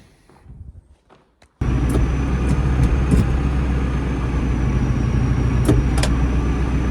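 A farm tractor engine starts up after a few faint knocks and then runs loudly and steadily nearby, with a few sharp clanks as it goes into gear.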